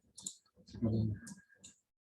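A few sharp clicks from a computer keyboard as an address is typed, scattered before and after a short stretch of talk in an otherwise quiet room.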